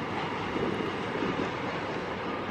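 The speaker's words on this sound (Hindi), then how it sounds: "लंबी ट्रेन, ये लंबाई तो रेलवे का हुस्न है, ट्रेनों की यही तो खूबसूरती है।" Long double-decker freight train in India rolling past: a steady rumbling wash of wagons and wheels on rail, fairly distant and even throughout, with no voices.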